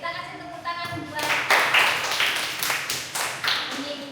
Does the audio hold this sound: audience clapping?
yes